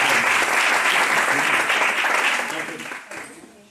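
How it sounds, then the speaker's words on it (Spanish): Lecture audience applauding the speaker at a literature talk, a full burst of clapping that fades out toward the end. "Y hay que aplaudirla."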